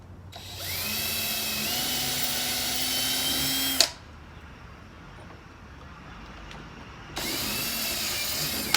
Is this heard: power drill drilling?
yes